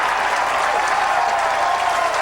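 A crowd at a bowling tournament in Vernon Hills applauds a split conversion, a dense, steady wash of clapping that stays loud and even from start to finish.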